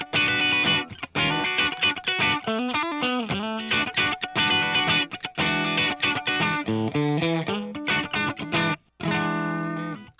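Electric guitar through a Soldano amp's clean channel, playing funky staccato chords and short melodic runs, bright and close, with crisp attacks and brief pauses.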